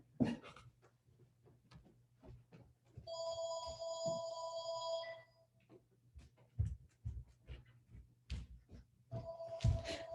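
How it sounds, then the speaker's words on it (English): A phone ringtone repeats in two bursts, a sustained tonal ring for about two seconds mid-clip and again briefly near the end, faint and indoors, with small tapping and handling noises between the rings. "And so my phone is ringing."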